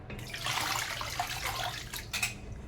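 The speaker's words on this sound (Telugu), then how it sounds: "ఇలా కడిగి ఇంకా కొంచెం నీళ్ళు పోసుకొని" Water is poured over semolina to rinse it in a kitchen, a close, continuous splashing trickle like a running tap, with a brief louder gush near the end and no talking.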